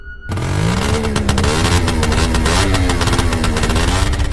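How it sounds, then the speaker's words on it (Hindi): Cartoon sound effect of a scooter ridden fast: a loud, sustained engine drone with a rising whine that kicks in abruptly and holds steady to the end, with no voices. "लेकिन गुल्ली काफी तेज स्कूटर चला रहा होता है"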